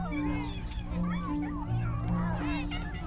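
Flerkens, the cat-like creatures of the 2024 film The Marvels, give several wavering, rising and falling meows over a constant background hum and tones.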